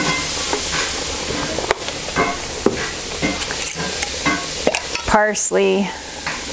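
Bacon ends sizzle steadily in a pan while being stirred and scraped, with a brief spoken word near the end over the frying.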